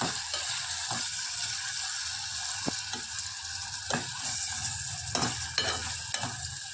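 Onions and tomatoes frying in a pan make a steady, loud sizzle with a few sharp scraping stirs at irregular moments, and no voices are heard.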